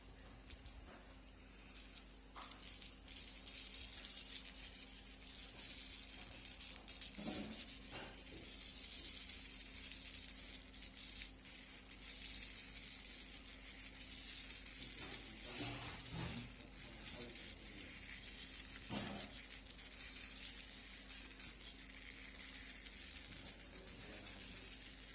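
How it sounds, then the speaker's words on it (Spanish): Fine iron filings are sprinkled onto a sheet of paper laid over magnets, making a faint, continuous sandy hiss with scattered soft taps and patters. "procedemos a poner la limadura de hierro"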